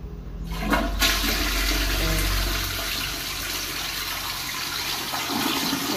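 A toilet flushes with a strong, rushing gush of water that roars steadily, then slowly eases as the tank refills, in a house in the Philippines.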